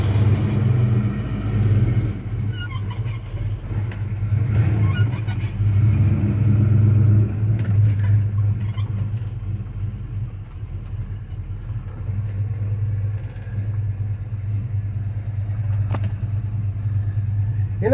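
A 1984 Chevy C10 farm work truck idles and rumbles as it backs up slightly, a steady close low engine drone with a few small revs and no clear talk.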